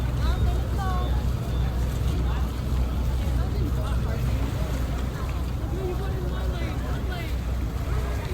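A boat motor drones steadily at low pitch as the boat approaches on a Boracay trip, with wind and water noise around it and people talking faintly in the background.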